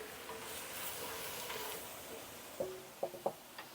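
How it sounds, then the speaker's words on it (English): Leeks and other vegetables sweat in a pan for split pea soup, a soft steady hiss with faint bubbling, followed by a few light knocks of a utensil against the pan. "you want to sweat this down until they are also soft"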